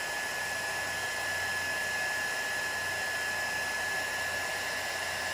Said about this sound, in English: Like on those tips, I can use the heat gun to blow it back onto the collar